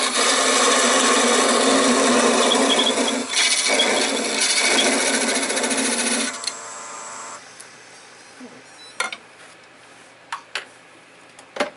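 Wood workpiece being cut on a lathe, with steady rasping, sawing noise filling the first six seconds before it stops, followed by quieter scattered clicks and a few sharp taps close by.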